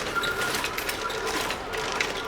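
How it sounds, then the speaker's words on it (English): A steady mechanical whirring and clatter of a sewing machine stitching through paper book pages, continuous and fairly close, with a busy high rattle throughout. "The sewing machine makes a really great sound,"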